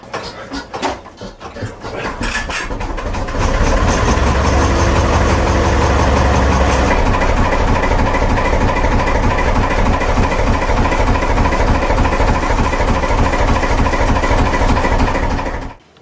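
An old narrowboat engine chugs steadily with a rhythmic, thumping beat, loud and close, running evenly before cutting out at the end.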